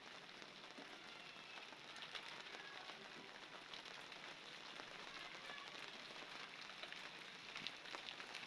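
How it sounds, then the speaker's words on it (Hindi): Soft, steady rain patters outside, a faint continuous hiss with scattered drips, fairly distant and unbroken. "अब बाहर देखते हैं, बारिश हो रही है।"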